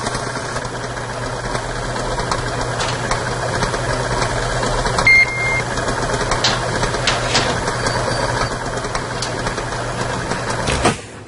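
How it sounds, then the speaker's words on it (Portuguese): An electric stand mixer hums steadily and close by as it briefly beats meringue, a continuous motor whir with faint rattling and no break. "Dou só uma batidinha na batedeira."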